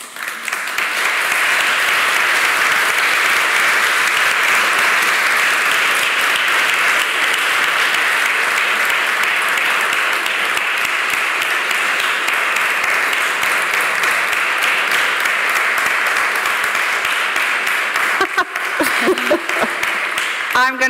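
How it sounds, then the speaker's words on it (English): Sustained, dense applause from an audience after a literary reading and conversation, steady and full for about eighteen seconds before thinning out with a few scattered final claps. "I'm going to take the applause for Afroben and Christina of Sweden"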